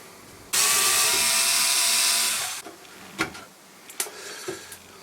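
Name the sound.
removing screws from an antique piano bench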